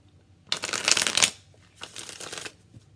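Nefertiti Tarot cards being shuffled up close in two quick riffling bursts, the first longer and louder, separated by a short pause.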